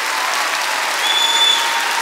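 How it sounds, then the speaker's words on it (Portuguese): Applause from a concert audience at a Portuguese television music show, dense and steady with no talking, filling the whole short stretch at close range. "Um aplauso muito grande para esta equipa maravilhosa que está aqui connosco."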